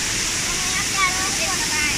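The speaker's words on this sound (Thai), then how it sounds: "อันนี้บรรยากาศน้ำตกโดยรอบนะครับ" Steady broadband rush of water pours down the Huai Mae Sai waterfall near Chiang Rai, a constant even roar with no breaks and no voices over it.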